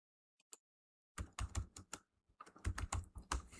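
Command being typed on a computer keyboard during a Redis install on Windows 11: two isolated keystrokes, then a quick, close burst of clattering key presses with no talk.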